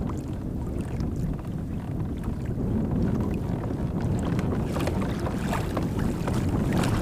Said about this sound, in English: The wind kind of surged up a little bit